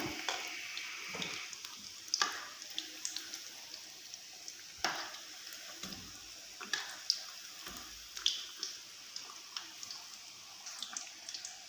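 Chicken donuts fry in hot oil with a steady, quiet sizzle close up, broken by occasional small pops and light taps, no talking.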